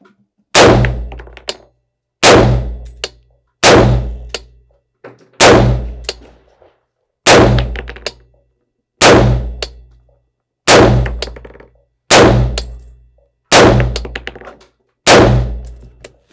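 An AR-15 style rifle fires .223 rounds outdoors, ten loud sharp reports at a steady pace about one and a half seconds apart, each with a short ringing decay, near and without talk.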